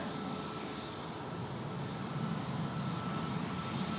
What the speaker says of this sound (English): We're getting a Medivac landing.